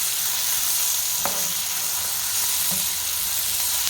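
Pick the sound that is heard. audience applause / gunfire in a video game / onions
onions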